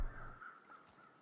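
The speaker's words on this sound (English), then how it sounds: "There's the carrion crows." Carrion crows in the survival video game The Long Dark give faint, distant caws over a quiet ambient hum.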